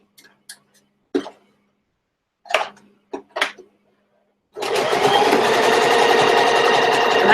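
A sewing machine zigzag stitching along a trimmed fabric edge while making a box pouch: a few scattered soft knocks, then a loud, steady mechanical whirr that runs on without a break.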